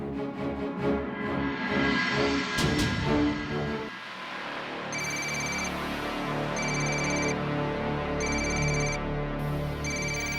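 A telephone rings in repeated electronic bursts, loud and close, after a stretch of dramatic music that cuts off, with regular ring pulses and gaps continuing over a low background.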